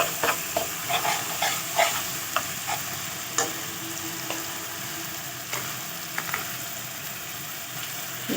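Garlic paste fries in a pan while being stirred, a soft sizzling hiss broken by repeated close clinks and scrapes of a spoon against the metal, with no talking.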